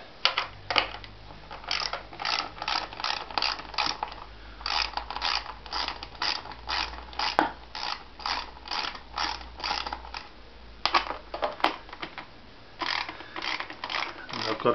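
An airbox is being worked off a motorbike, heard as a long run of close, dry plastic clicks, creaks and ratcheting snaps in an uneven rhythm, with no voices.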